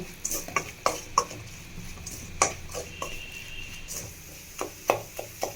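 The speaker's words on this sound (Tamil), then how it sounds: "இதெல்லாம் நல்லா இந்த எண்ணெயிலே இந்த காயிலே குக் பண்ணிடலாங்க" Vegetables stirred in hot oil with spices for veg cutlets, a spoon scraping and clinking against the pan in scattered taps over a low, steady background hiss.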